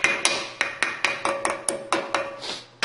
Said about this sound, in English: Just give it a little tap all the way around.